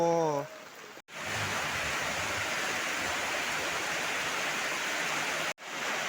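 Heavy rain pours down around people sheltering under banana leaves beside a parked motorbike, a steady, loud, hissing wash of noise that follows a brief voice at the start.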